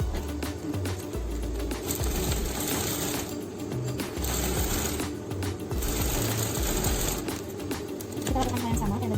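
A sewing machine stitches a layered skirt for a Barbie-size traditional Maluku dress, running in loud close bursts of rapid mechanical whirring that start, stop and restart, with a voice speaking faintly underneath.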